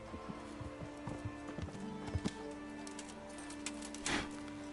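A horse's hooves clip-clop in Kingdom Come Deliverance, a quiet, irregular run of hoof taps over low ambient game sound with birds in the background.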